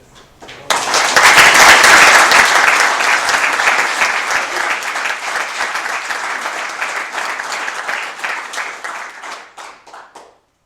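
Audience applause at a Winnebago County Board of Supervisors meeting after a certificate of recognition, a dense burst of many hands clapping that starts abruptly, holds steady and then thins out and fades over about ten seconds.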